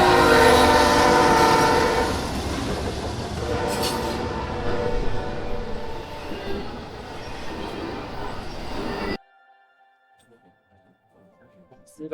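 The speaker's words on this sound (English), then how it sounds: "the train decides to come right through" Train passing through Norcross, Georgia, loud and close with its horn sounding over rumbling railcars, then cutting off abruptly to near silence.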